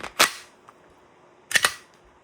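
An Umarex Glock 19X Gen 5 CO2 airgun fires 4.5 mm steel BBs, giving sharp, close pops: one double crack near the start and another pair about a second and a half later, with no talk.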